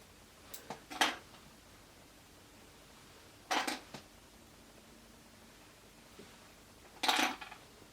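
Hair clips taken out of a vintage sponge-roller set and dropped onto a hard surface, a few light metallic clatters and clicks in three separate bursts a couple of seconds apart, close and fairly quiet with no talking.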